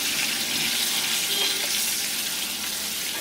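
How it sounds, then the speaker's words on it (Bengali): Potatoes seasoned with salt, turmeric and a little chili powder fry in a pan until browned, giving off a steady, close, unbroken hiss of sizzling oil with no voices. "এখন এগুলোকে বাদামি করে ভেজে নিচ্ছি।"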